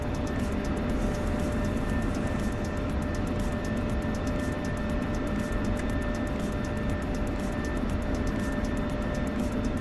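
An F-16 Viper jet in the DCS flight simulator game gives off a constant, even engine roar with a faint whine, steady and unbroken throughout, with no talk.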